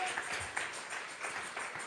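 Church congregation claps together during a Sunday morning service, giving an offering of applause to God; a steady, dense wash of many hands at moderate distance throughout.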